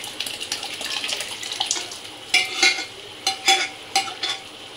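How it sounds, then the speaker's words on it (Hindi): Mashed vegetables stirred into frying pav bhaji masala in a pan, a wet scraping and sizzling with a few sharper spoon knocks toward the end, close and alone. "और अब हम इसमें जो हमने मैश कर रखा था सब्जियां वो हम इसमें डालेंगे।"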